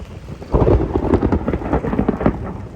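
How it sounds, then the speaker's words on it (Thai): Morning rain falling steadily with rumbling thunder, a broad continuous wash that swells loudly after a quiet start and stays dense throughout, with no voices. "อันบรรยากาศตอนเช้าฝนกำลังตก"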